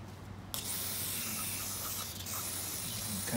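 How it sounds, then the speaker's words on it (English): Aerosol parts cleaner sprayed onto the rear brake adjuster of a 1988-97 Nissan D21 truck during a brake shoe replacement: a sudden, steady, loud close-up hiss that begins after a brief quiet start and continues to the end. "you wanna get some cleaner on there and get that nice and cleaned up"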